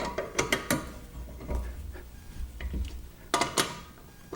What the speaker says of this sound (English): we can take the lug nut wrench, tighten them down.